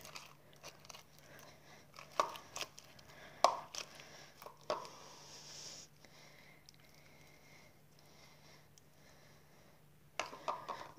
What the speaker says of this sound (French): Maintenant on peut le mélanger avec la cuillère.